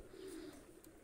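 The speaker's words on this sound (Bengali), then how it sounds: "টেডি কবুতর, খুবই অসম্ভব এবং ভালো মানের দুইটা কবুতর" Pakistani high-flying teddy pigeon giving one soft, low coo that wavers briefly over quiet background noise.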